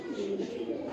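Pigeons coo softly on a rooftop in Islamabad, a short close burst of low, rolling calls heard alone.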